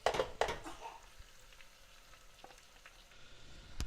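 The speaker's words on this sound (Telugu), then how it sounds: "మీడియం ఫ్లేమ్ మీద ఉల్లిపాయలు కొంచెం వేగనివ్వాలి" Sliced onions, about five medium ones, frying over a medium flame in a pan with bay leaves, giving a soft, steady sizzle with a few sharper crackles early on, fairly faint and close with no talking.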